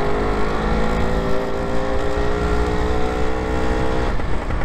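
A Lambretta scooter engine pulls steadily close up, its two-stroke drone holding strong and rising in pitch as the rider rolls on the throttle, with a brief dip near the end as it shifts gear.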